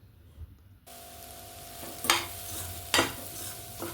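A spoon stirs egg curry in a pan over a low background sizzle, with two distinct scraping strokes against the pan. A lid may be lifted at the start.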